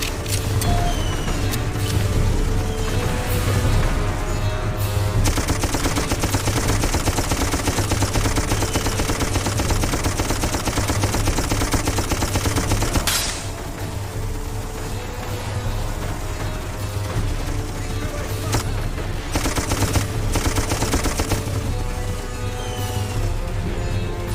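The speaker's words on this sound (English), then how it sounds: "Get your ass on that gun and provide cover fire." Sustained automatic gunfire from a mounted machine gun in the first-person shooter Darkest of Days, a dense, loud, continuous rattle lasting most of the stretch with a brief lull partway through.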